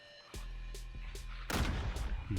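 Explosions in the Minecraft video game, a series of sharp booming blasts at roughly regular intervals, with one bigger, louder burst near the end, heard alone without talk.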